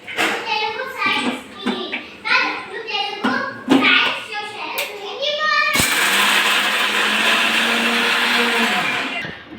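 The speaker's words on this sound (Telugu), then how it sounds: "చూడండి ఇలా లైట్గా అయితే గ్రైండ్ చేసుకోవాలి." A mixer grinder grinds a spice paste of coriander powder and fresh coriander for stuffed eggplant. The motor whirs steadily and loudly for about four seconds after a stretch of clattering, pulsed bursts.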